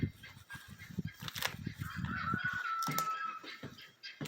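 Broody hens in a backyard coop cluck and grumble up close in short irregular bursts, with a longer drawn-out call in the middle, moderately quiet and without talk.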